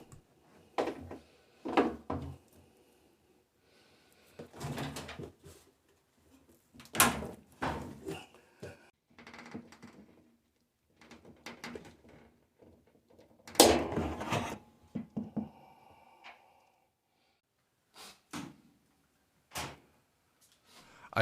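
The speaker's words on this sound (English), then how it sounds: "I close the door frame while being careful not to break or damage the plastic notches in the rear." Plastic door frame panel of a Samsung washing machine being pressed shut during a DIY repair, giving a series of separate close knocks and clicks spread out with quiet gaps between them.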